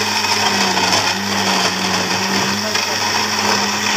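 A blender grinds strawberries, sugar and milk powder into a milkshake, a loud steady whirring motor drone with a constant pitch lasting the whole few seconds, close up.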